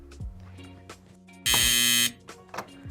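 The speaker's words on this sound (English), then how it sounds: "you guys can take turns hitting the buzzer" A game show buzzer struck once, giving a loud, harsh electronic blare that lasts about half a second, surrounded by scattered clicks and knocks.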